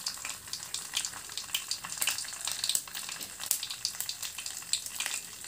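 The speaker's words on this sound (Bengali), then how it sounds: "এরপর এর মধ্যে দিয়ে দিলাম আমি 1 চা চামচ সর্ষে ফোড়ন।" Mustard seeds splutter in hot mustard oil for a pickle, making a dense, fast crackle of sharp pops over a continuous sizzle, close and fairly loud, with no talk.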